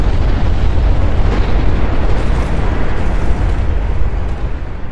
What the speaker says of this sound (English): The Americans dropped the first atomic bomb on Hiroshima on August 6,